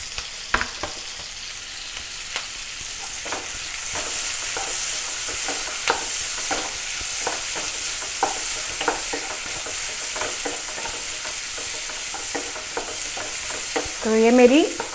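Onion and capsicum stir-fried over a high flame, with a steady loud sizzle and repeated scraping strokes of a spatula against the pan throughout, growing louder near the end.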